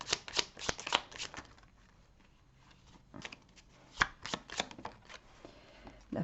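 Tarot cards being shuffled and drawn for a five-card spread: quick papery riffles and snaps in short clusters, with a quieter lull in the middle before more crisp card slaps.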